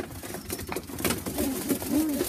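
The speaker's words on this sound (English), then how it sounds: "I've got 10 old birds in here" Tippler pigeons coo inside a loft, a few soft rolling coos close by over rustling background noise.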